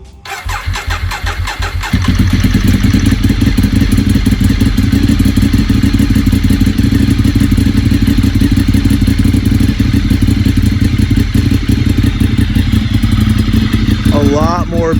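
A Ducati motorcycle with an aftermarket titanium and carbon fiber exhaust cranks briefly, catches and settles into a loud, deep, throaty idle, steady and close for the rest.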